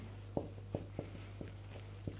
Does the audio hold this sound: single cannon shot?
no